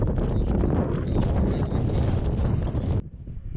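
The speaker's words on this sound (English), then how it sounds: "it's windy as hell" Strong wind buffets the microphone with loud, continuous rumbling gusts, dropping off abruptly near the end.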